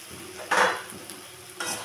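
Fried boal fish head is stirred into sizzling spiced eggplant in a pan, with a steady low sizzle and two louder bursts of scraping and frying as the pieces are turned.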